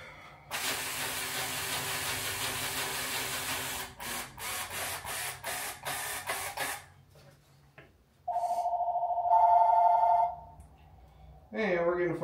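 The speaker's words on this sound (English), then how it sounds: "And we're getting a phone call." A phone rings with an incoming call in a workshop during a Mathews Lift 33 bow build, a steady electronic tone sounding twice around the middle, alone after earlier broadband hissing and rubbing noise.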